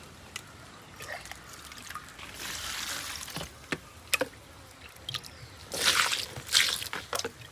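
Homemade liquid fertilizer made from kitchen waste is poured onto garden plants such as eggplant, giving soft intermittent trickles, splashes and wet squishing sounds at close range, with no talking.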